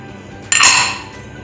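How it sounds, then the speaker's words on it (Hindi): A single bright clink and clatter, close and fairly loud, about a third of the way in, as dry fruits (makhana, raisins and almonds) go into a pot of rice kheer; quiet kitchen background and no talking. "अब हम इसमें जो है सारे ड्राई फ्रूट्स डाल देंगे ये हमारे मखाने किशमिश ऑलमंड के"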